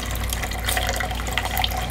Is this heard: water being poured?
yes